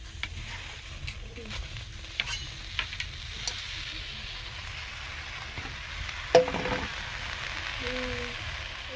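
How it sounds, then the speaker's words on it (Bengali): Malabar spinach leaves sizzle and are stirred in a very hot wok over a clay stove, a steady frying hiss with scattered clicks of the utensil and a sharper scrape near the end. "কড়াই খুব ভালো গরম হয়ে গেছে ওর মধ্যে পুঁই পাতাগুলো দিয়ে দেবো"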